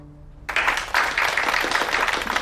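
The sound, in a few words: applause at a dinner gathering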